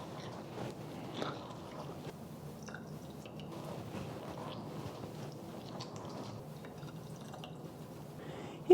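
Lemon being squeezed by hand for a rib marinade, soft wet squishing with scattered juice drips, close and quiet with no talking.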